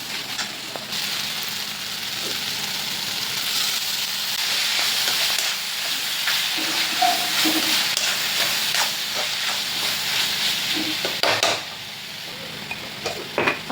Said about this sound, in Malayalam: ഈ സമയം സവാളയും തക്കാളിയും വഴറ്റാൻ വേണ്ടിയിട്ട് ഇട്ടിട്ടുണ്ടായിരുന്നു